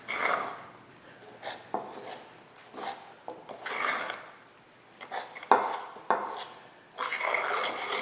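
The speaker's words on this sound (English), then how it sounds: "Carefully stir it until it's all combined." Wooden spoon working sourdough bread dough around a bowl, heard as soft rasping scrapes and rubbing strokes in uneven bursts with a few sharper knocks against the bowl, close and fairly quiet.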